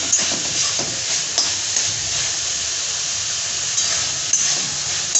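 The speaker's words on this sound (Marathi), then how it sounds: "आता याला थोडा गॅस मोठा करायचा आणि चांगलं असं मस्त याला एकदम फ्राय होऊन द्यायचं।" Soya chunks with ground peanut powder frying in a pan over high gas, a loud, steady hiss and sizzle close up with a few faint stirring clicks.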